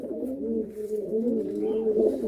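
A Giribaz pigeon coos close by, soft throaty warbling notes rolling on continuously.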